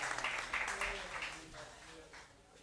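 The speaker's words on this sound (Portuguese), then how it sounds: "Palmas para o CPE e para a Silvana" Audience applause at a live trio concert at the venue 373, faint, dense clapping that gradually thins out as it fades.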